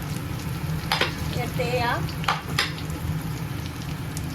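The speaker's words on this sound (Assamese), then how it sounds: "পিচি ৰখা মছলাখিনি দি দিলোঁ, আৰু এইখিনি এতিয়া ভালদৰে ভাজিম" Ground spice paste sizzles as it fries in a pan for a mutton curry, a steady close hiss broken by a few stirring scrapes, with a brief voice speaking over it.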